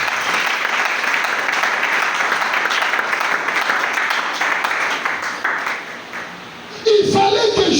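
A church congregation applauds to acclaim the Lord, dense, sustained clapping from a large crowd that fades briefly near the end before a voice rises again over it.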